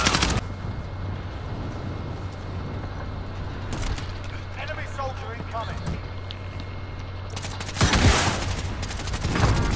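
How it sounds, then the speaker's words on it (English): Video game gunfire crackles in dense fusillades over a low engine hum, with louder bursts near the start and end, while a player talks over it. "I'm getting shot from behind."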